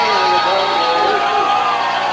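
A football crowd at a 2002 high school playoff game roars in reaction to a hit, a loud, steady wash of cheering voices that fills the whole moment.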